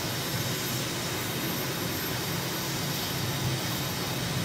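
Light airplane engine at high power just after lift-off over London, a loud, steady roar with broad wind and engine noise filling the cabin throughout.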